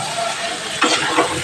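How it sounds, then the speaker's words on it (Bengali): A spatula stirs and mixes fish pieces through spice paste in a pan, giving short scraping, sizzling strokes that swell midway over a steady frying hiss, close and moderately loud. "এবার খুন্তিটা দিয়ে একটু ওগুলো সব মাখিয়ে নেব"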